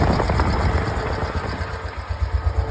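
A high-mileage Honda motorcycle engine, ridden rough, runs at a steady idle up close, with a dense mechanical chatter and a low throbbing pulse. No one speaks.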